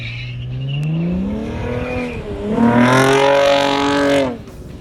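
A Chevy Camaro races a timed lap on a large autocross course, its engine revving loudly and close, rising and falling through gear changes and acceleration before fading at the end.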